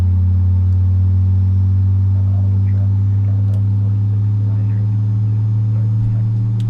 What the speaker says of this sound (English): You can hear these engines spooling up.